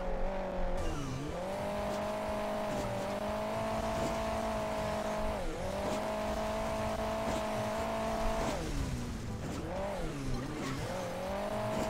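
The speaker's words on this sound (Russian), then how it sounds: "Так, переключаемся на раллийное авто." A rally car in the mobile racing game Hill Climb Racing 2 drones with a steady synthetic engine tone that dips and climbs again with each gear shift or jump, running continuously at moderate volume.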